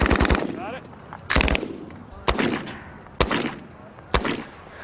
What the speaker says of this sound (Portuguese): é uma arma de ação dupla